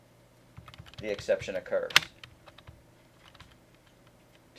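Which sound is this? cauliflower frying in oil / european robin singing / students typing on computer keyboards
students typing on computer keyboards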